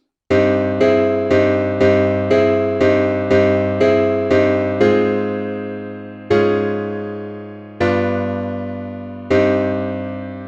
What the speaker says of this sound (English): So that entire chord progression of that phrase sounds like this.